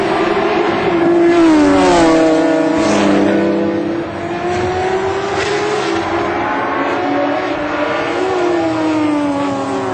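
A BMW M3 race car, number 20, roars past at Twin Ring Motegi in round 1 of the 2010 Super Taikyu series. The loud, continuous engine note climbs and falls through gear changes with no talk over it.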